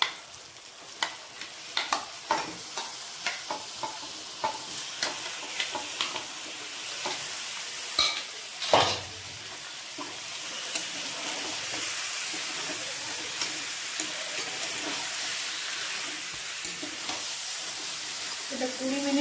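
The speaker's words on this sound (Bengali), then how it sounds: "এরপরে চিকেনটা দিচ্ছি আমি।" Chicken pieces hit a pan of cooked-down spiced masala that has released its oil, then sizzle and hiss steadily while a spoon scrapes and stirs in irregular knocks, close and prominent.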